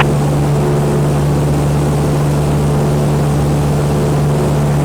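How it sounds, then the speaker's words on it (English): Cessna light aircraft's propeller engine droning steadily in flight during stall practice south of Monroe, a loud, constant close-up hum filling the cabin with no talking. "White Cessna 3526 Juliet, practicing stalls south of Monroe, northeast practice area."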